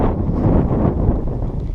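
A squall wind gusts in the mountains of Chegem in spring, a loud, steady, rushing roar buffeting the microphone with no other sounds.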